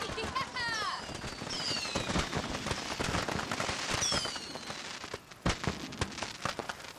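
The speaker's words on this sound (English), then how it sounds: "Pretty good firework display, guys." Rapid crackling bursts and whistling streaks of fireworks in the video game Far Cry 6 pop and fizz continuously, with a few sharper bangs near the end, over a dense noisy background.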